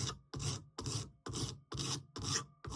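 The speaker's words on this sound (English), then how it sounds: "need a file, and we do files off, turn these edges round, and then smooth them off" A hand file rasps slowly over the edges of a DIY alloy wheel spoke sanding tool, rounding them off in seven steady strokes, each a close, even scrape separated by brief pauses.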